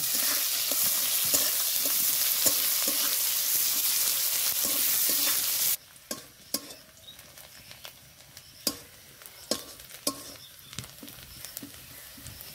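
Chopped onions frying in a pan for a rui fish recipe with pui shak: loud, steady sizzling for the first half, then a quieter pan with scattered clicks and stirring taps.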